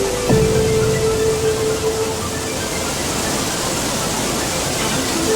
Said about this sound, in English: The primeval might and thunderous sound of the raging water